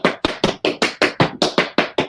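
Tap dance steps begun with a dig, about ten evenly spaced sharp taps in a steady moderate rhythm, close and clear with no voices.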